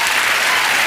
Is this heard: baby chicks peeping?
no